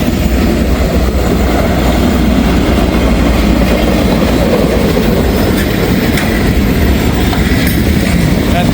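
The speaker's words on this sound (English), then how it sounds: "There's the caboose." A train passes close by with a transfer caboose, a loud, steady rumble of rolling cars with faint rhythmic clatter throughout, and someone talks briefly over it.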